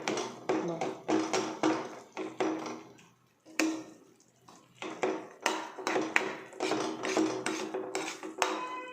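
Aloo chaat mixture with lemon juice is mashed and stirred by hand in a bowl, giving a run of soft, repeated tapping and squishing knocks in quick clusters, with a short lull partway through.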